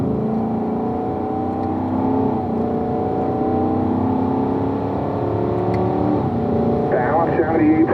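Race car engine running at full throttle in fourth gear, with a rising, steady roar and an upshift toward fifth; a voice talks over the engine noise throughout.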